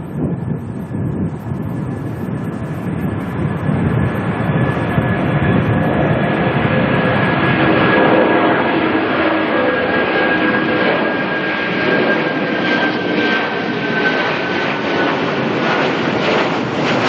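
A Fiji Airways jet airliner climbs away after takeoff from Auckland, its broad engine roar heard from a distance as a steady, sustained rumble with some wind buffeting the microphone.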